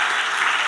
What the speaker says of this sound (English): Round of applause to Tiffany, everyone.